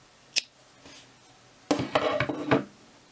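Scissors snip wool yarn at the end of a crochet square, a brief click followed by a cluster of close metallic cutting and handling sounds.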